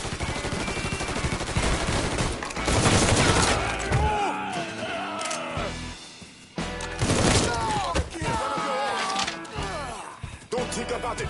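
Dense bursts of automatic gunfire and single shots fill a Mafia 3 video game shootout, loud and continuous with brief lulls, while voices shout over the fighting.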